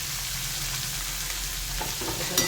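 Capsicum and green chillies sautéing in a pan for buttermilk sooji upma: a steady close sizzle of oil, broken by a few soft stirring scrapes near the end.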